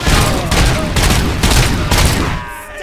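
Sustained automatic gunfire from the video game Robocop: Rogue City rattles in dense bursts with short gaps, loud and close, before cutting off abruptly near the end.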